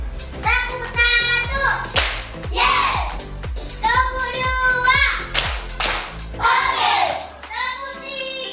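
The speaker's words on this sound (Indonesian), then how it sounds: "tepuk tangan semua" Children in a classroom clap together in quick rhythmic bursts, sharp hand claps repeating over several seconds with a lively group chant or speech mixed between them.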